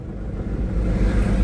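A loaded catering delivery vehicle pulling away near Radisson Hotel in CIDCO, a steady low engine rumble growing slightly louder and fuller as it drives off, with no voices.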